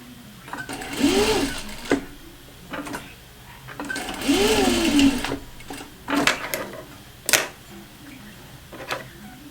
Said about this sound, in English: So now I'm going to baste it around to keep the layers together.